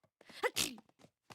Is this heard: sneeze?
yes